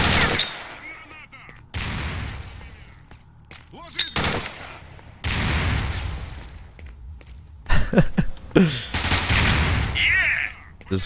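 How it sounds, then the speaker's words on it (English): Grenades flung and bursting in the shooter game STALKER: Shadow of Chernobyl, a run of sharp blasts and gunfire bursts separated by brief gaps, loud and close, with scattered game noise between the explosions. "Just flinging nades at him."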